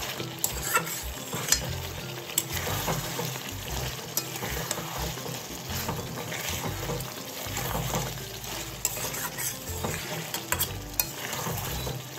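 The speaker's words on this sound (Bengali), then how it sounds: "আবারও আমি মাংসটাকে ভালোভাবে নাড়িয়ে চাড়িয়ে কষিয়ে নেব" Chicken pieces sizzling in a pan for a white chicken korma, stirred and turned with repeated spoon clinks and scrapes over a continuous close frying hiss, no voices.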